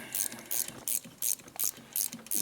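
Ratchet wrench clicking as it turns bolts during a cam and tensioner bearing repair on a 2004 Harley-Davidson FLHT touring bike with an 88 Twin Cam engine; six quick, close bursts of ratcheting clicks in a steady rhythm.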